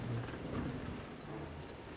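Rain pours steadily during a storm in Kingdom Come: Deliverance, a soft, continuous hiss of falling drops with a low rumble underneath, quiet and unbroken for a couple of seconds with no talking.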